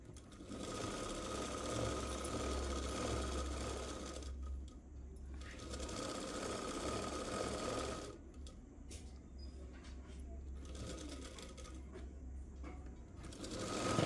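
A sewing machine runs in long continuous bursts while double-stitching the hand joints of an umbrella dress, a steady close whirring hum with brief pauses between runs and no talk.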